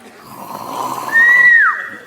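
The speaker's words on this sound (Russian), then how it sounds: "Храпит." A snoring sleeping beauty in an animated comedy gives one long whistling snore that rises and then swoops downward, loud and close, over a soft breathy background with no talking.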